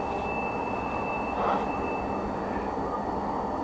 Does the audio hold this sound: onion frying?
no